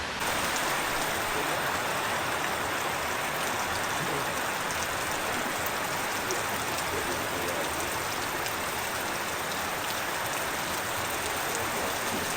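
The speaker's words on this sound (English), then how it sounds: "And the rain also start back too." Steady rain falling at an off-grid riverside spot in Jamaica, a dense continuous hiss of drops on surfaces that stays even and fairly loud throughout, with no voices.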